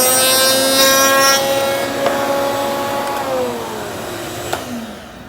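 A router table bit cuts a wooden workpiece held against a backing scrap and fence, a loud high spinning whine with a rasping cut that gradually winds down in pitch toward the end.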